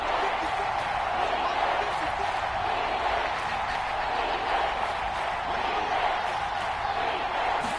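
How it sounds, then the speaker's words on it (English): A football stadium crowd roars continuously at the Jets–Dolphins game ahead of a third down, a dense, loud, sustained wash of cheering with a commentator's voice faintly under it. "The crowd getting into it as we come up on a big 3rd down"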